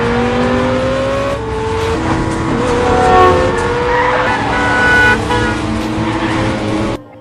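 A car flees at speed in a movie chase scene, with a loud, steady engine roar and rising tire squeals, heard close and continuous against a busy background.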